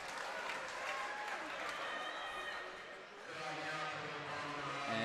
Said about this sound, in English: Some potentially sarcastic cheers coming from the crowd out here.